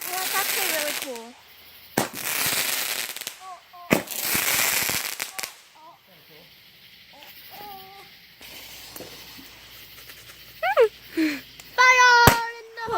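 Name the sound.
backyard fireworks and firecrackers going off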